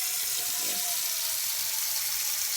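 Water runs steadily from a tap into a sink with a constant loud rush and a few faint squeaks, heard alone without talk.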